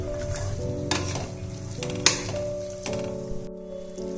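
Spinach and green peas fry together in a pan, a moderate sizzle with bursts of stirring and clattering against the pan, over a steady humming tone, with no speech.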